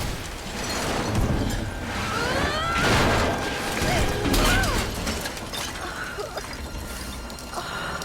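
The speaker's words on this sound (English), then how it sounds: "Eventually, we make it to the end, slamming into an old plane." In the Tomb Raider video game, Lara Croft slams into an old plane and the cockpit glass cracks beneath her, giving heavy crashing impacts, metallic clatter and cracking glass. Game effects swell and fade over several seconds, with a voice talking faintly underneath.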